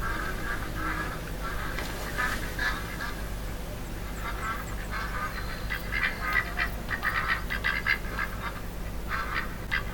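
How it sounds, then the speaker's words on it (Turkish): Many ducks quack continuously across a lake, a busy overlapping chorus from moderate distance over a steady background hum. "Göl ördek dolu gördüğünüz gibi."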